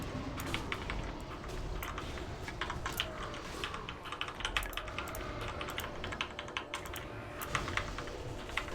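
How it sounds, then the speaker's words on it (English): Fast, continuous typing on a computer keyboard during a gearing session for a fresh level-80 game character, with dense, close clicking keystrokes throughout and no talk. "Smash that keyboard, break those buttons"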